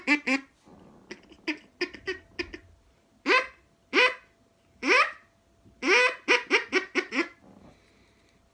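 A homemade duck call blown in short, rhythmic quacking bursts, some single and some in quick series, loud and close with brief gaps.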